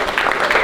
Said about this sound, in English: A round of applause for the players, eh?